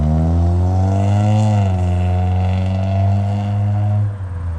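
A loud, close turbo VQ35 car engine with a new exhaust revs high and holds near the limiter with a raspy, droning exhaust tone before easing off at the end.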